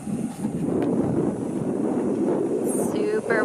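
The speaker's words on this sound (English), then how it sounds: "Super windy, guys." Strong wind buffets the microphone outdoors by brown water, a constant loud roaring rush with no pauses.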